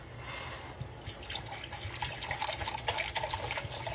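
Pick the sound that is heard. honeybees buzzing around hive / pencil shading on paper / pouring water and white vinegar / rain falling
pouring water and white vinegar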